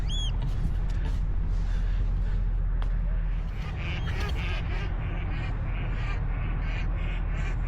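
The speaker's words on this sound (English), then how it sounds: "Some geese coming past." Geese honk as they fly past over a wide beach, their calls faint and intermittent above steady wind and surf noise.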